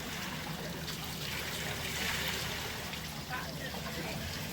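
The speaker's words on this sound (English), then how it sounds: "So this is their water wheel." Steady rushing and trickling of water from a chain-driven water wheel with a gearbox turning in a stream, continuous and fairly close, with faint background noise throughout.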